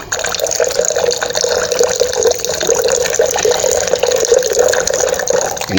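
Sodium sulfate solution poured steadily into another liquid while being stirred, a continuous close splashing and trickling pour that stays fairly loud throughout, with no talking.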